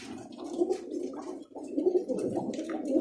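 A roller pigeon held in the hand gives soft, repeated throaty coos at close range in a gentle rolling rhythm, with a brief pause partway through and no talking.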